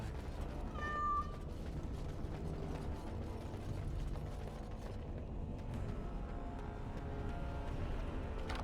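A cat gives a single short meow early on in the video game Dragon Age: Awakening, set against a steady low mechanical grinding and ratcheting ambience that continues to the end.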